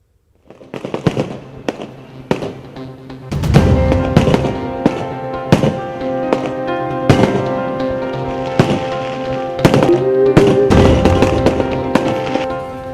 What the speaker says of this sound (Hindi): गगनभेदी शोर मचाने वाले पटाखे ललचाने लगे हैं